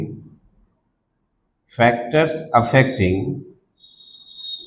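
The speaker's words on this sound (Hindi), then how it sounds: "मेन टॉपिक लिख रहा हूं" Marker or chalk strokes as a main topic is written on a board, heard close and clear alongside someone talking.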